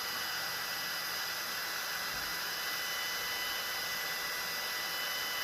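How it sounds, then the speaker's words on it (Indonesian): An electric mixer kneads roti maryam dough with a continuous mid-level motor whine that holds steady throughout, alone and without talk. "ini di mixer sampai dia benar-benar kalis, tercampur rata, tidak lengket dan kalis ya"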